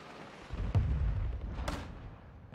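Distant booming video game gunfire and explosions, low and muffled, with a couple of sharper cracks over a rumbling background, heard from a loading screen.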